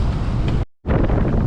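Strong Meltemi wind buffets an anchored sailboat in the Aegean Sea, a loud, steady roar of broadband wind noise that briefly drops out for a moment before surging back just as hard.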